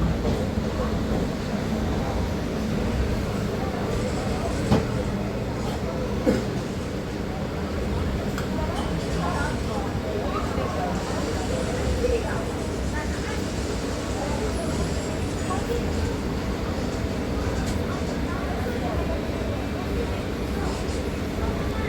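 A Chennai local train from Attipattu Pudhu Nagar to Chennai Beach runs near Washermanpet station, a steady heavy rolling rumble with rattling carriages, heard close and continuous from on board.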